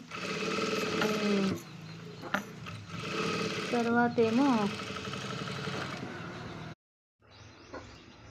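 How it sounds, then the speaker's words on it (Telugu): A sewing machine runs in steady whirring stretches with brief stops, close by, while a person talks over it. "క్లీన్ చేసిన తర్వాతనే మనం మిషన్ కుట్టాలి."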